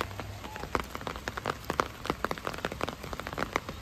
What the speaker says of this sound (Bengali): এটা ভালোই বৃষ্টি শুরু হয়েছে।